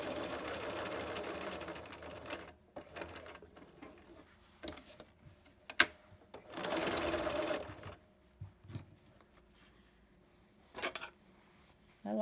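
A sewing machine stitches slowly around a curve on a child-sized fabric mask, running in short bursts with pauses between, close and fairly quiet.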